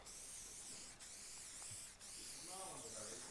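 Steady close aerosol spray hissing continuously as a coating is sprayed onto a car headlight, with brief breaks in the hiss and faint background noise.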